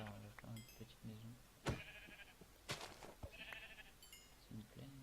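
Sheep in the Minecraft video game bleat in repeated short nasal calls scattered through a busy stretch of gameplay sounds, with sharp clicks and a person talking between them.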